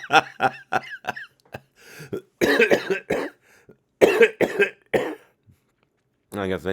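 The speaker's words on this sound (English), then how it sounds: "I guess I still cough when I laugh a little bit." A man's coughing fits break through bursts of laughter, several short harsh coughs in clusters with pauses between, close and fairly loud.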